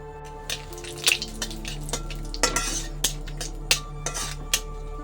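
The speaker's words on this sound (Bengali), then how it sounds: "তেলের ভিতরে দিয়ে দিচ্ছি সাদা জিরে, একটা তেজপাতা" White cumin seeds and a bay leaf frying in hot oil in a pan, with a steady close sizzle and intermittent metallic clinks and stirring scrapes from a utensil, no talking.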